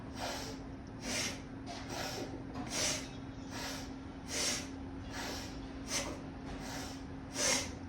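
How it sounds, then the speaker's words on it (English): Rhythmic, forceful breaths through the nose during a quick Kundalini yoga breathing flow, about ten sharp hissing inhales and exhales in steady alternation, close and fairly loud over a low constant hum. "Staying really strong with those inhales and exhales out of the nose"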